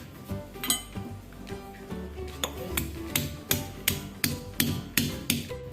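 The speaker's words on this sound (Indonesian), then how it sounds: "Kalau numbuk kencur bisa sedikit halus ya guys" Aromatic ginger (kencur) is pounded with a pestle, giving a string of sharp, evenly spaced thuds that grow louder and steadier near the end, close by with no talking.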